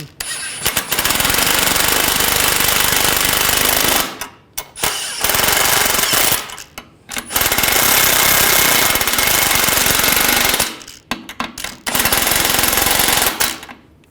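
Impact wrench running down the hub nuts on a 2009-2017 Volkswagen Tiguan front left axle, loud hammering bursts in four long runs separated by short pauses, close and alone.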